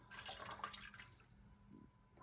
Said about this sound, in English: Now we got to pour it in there. In goes the ginger bug.